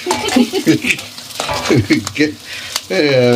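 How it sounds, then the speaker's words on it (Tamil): Grated coconut sautéed and stirred in a pan for a fish curry gives a steady close sizzle, with a voice talking over the frying throughout. "தேங்காய் நல்லா போட்டு கலக்குங்க நல்லா வதக்குங்க"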